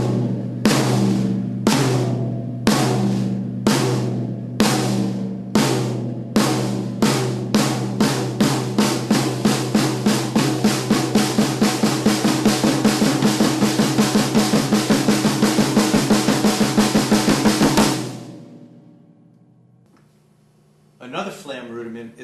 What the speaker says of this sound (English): the accented note is played on the first rack tom, and the grace note is played on the snare